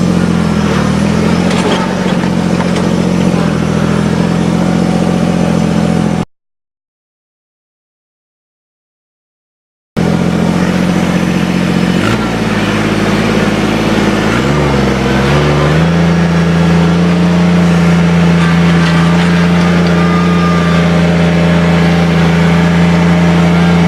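A small diesel tractor, hardly bigger than a large lawnmower, runs steadily nearby with a loud low chugging drone, revving up and settling briefly midway, broken by a short gap of silence.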